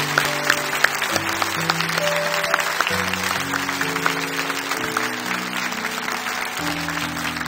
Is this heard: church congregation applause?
yes